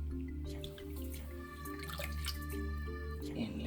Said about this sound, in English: let's take 1/2 cup of water